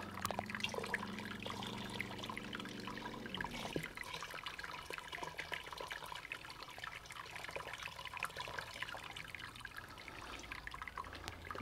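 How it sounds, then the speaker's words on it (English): Sparge water drains slowly through the malt pipe of a Brewzilla brewing system, a faint continuous trickle with scattered drips and a lower gurgling flow that stops partway through. "I can hear it draining out slowly."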